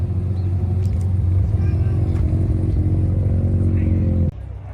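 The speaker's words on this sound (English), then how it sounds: "But still some cars rolling in" Cars roll into a car meet, a close steady low engine rumble with light clatter that cuts off abruptly near the end.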